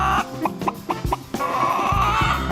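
A person imitates a hen, making a series of short, choppy clucks followed by a longer drawn-out clucking call, close and fairly loud with no talk.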